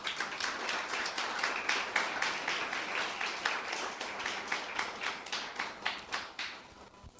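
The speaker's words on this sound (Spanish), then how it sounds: "Dan un aplauso al Eterno por esa verdad." A congregation claps together, a fairly faint, even patter of many hands that carries on for several seconds and then stops abruptly.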